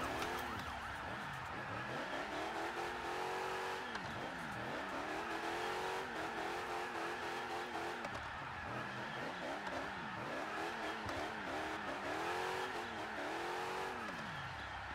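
A car in the Car Parking mobile driving game revs and accelerates repeatedly, its engine pitch sweeping up and down in a continuous loud drone for fifteen seconds with no talk.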